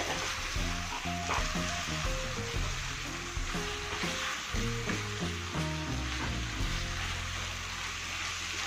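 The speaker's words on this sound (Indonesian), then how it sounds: "Kita aduk dengan rata." Spices and bay, cinnamon, turmeric and curry leaves fry in a pan for Acehnese red beef curry while being stirred, making a steady, fairly loud sizzle broken by repeated scraping strokes, close up with no talking.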